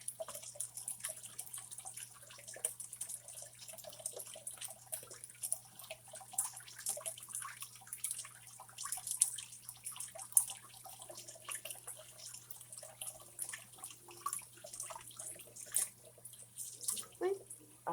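Cold tap water runs steadily from a kitchen faucet over boiled eggs in a sink, a soft continuous splashing with faint clinks and rustles, a low hum beneath.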